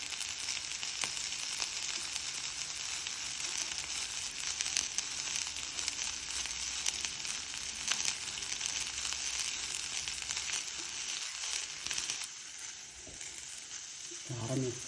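Spices and onion sizzle and fry steadily in hot oil for a Telugu pulaganda curry, a loud continuous crackle with occasional stirring scrapes near the end and no talk.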